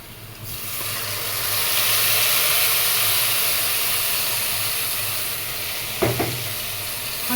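Spices tipped into hot oil for a curry give a steady close sizzle and hiss throughout, with a brief clatter of stirring near the end.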